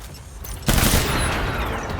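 Handgun fire in the video game Death Stranding: a sharp loud shot bursts in partway through, followed by a ringing, decaying tail under steady game ambience.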